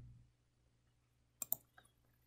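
Mouse clicks on a computer while testing a survey in an authoring tool: a quick pair of sharp clicks close together, then a couple of fainter ticks, over a low steady hum in a quiet room.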